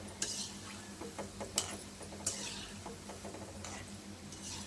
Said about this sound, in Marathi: छान खमंग खरपूस होईपर्यंत हे भाजून घेऊया